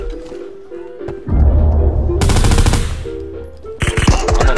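Automatic gunfire in a multiplayer shooter video game: loud rapid bursts of shots in two or three volleys with a steady hum underneath and a faint voice nearby.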